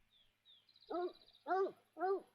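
A dog in a hunting video game barks three times in a steady rhythm, each bark clear and fairly close, with a faint high whine just before them.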